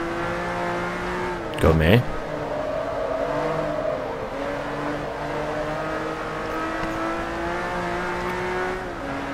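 Race car in Forza Motorsport 3 at a 500HP run-off, engine revving hard with rising and falling harmonic tones, a brief loud burst early on, while a voice talks over the steady close roar.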